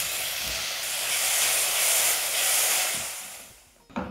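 Onion, garlic, green chili and curry leaves sautéing in ghee, giving a steady loud hiss and sizzle that swells and fades before ending with a brief clatter.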